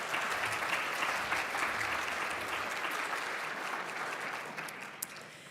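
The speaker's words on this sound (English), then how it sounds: "Let's give them both a round of applause." An audience at an agricultural outlook forum applauds two professors, a full, even wash of clapping from a large crowd that holds steady and slowly eases off.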